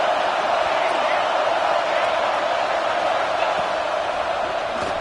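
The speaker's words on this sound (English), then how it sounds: "This dog crowd is off the leash, and they are coming after them, bringing noise on third down." Stadium crowd at a college football game against LSU roaring on third down, a dense, steady wall of cheering and shouting that holds at full volume throughout.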